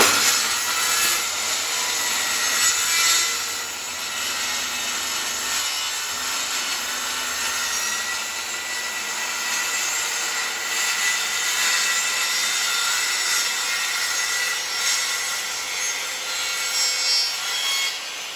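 A circular saw runs steadily through hardwood plywood on a diagonal cut, the blade's loud, continuous rasping whine filling the space without pause and with no voices.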